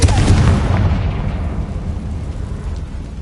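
A Confringo blasting spell from a Harry Potter video game erupts in a loud, deep explosive boom at the very start, then rumbles and crackles as it slowly decays over about three seconds, with no voices.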